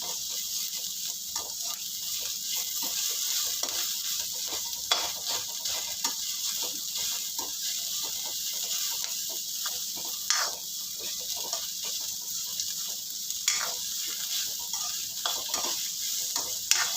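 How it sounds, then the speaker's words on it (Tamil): Onions sauté with a little salt in a pan for Kumbakonam kadappa, giving a constant close sizzle broken by repeated scraping and clinking strokes from stirring. "வெங்காயம் சட்டுன்னு வதங்கும், கொஞ்சமாக உப்பு போட்டுக்கிறேன்."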